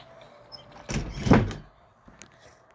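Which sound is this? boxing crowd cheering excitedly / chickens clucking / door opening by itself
door opening by itself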